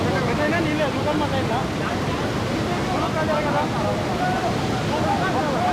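Water gushes out of the open gates of Chagallu dam into the Penna river: a loud, constant roaring rush with voices talking faintly in the background throughout.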